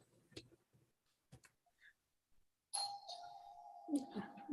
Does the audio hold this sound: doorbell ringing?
yes